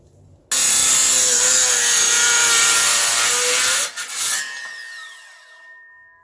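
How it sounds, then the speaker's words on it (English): A portable circular saw runs at full whine through a wooden tabletop, guided along a clamped straight edge, loud and steady for about three seconds before the blade bogs, finishes the cut and spins down to silence. "I'm going to make this cut here with my portable circular saw because I need the cut to be truly vertical."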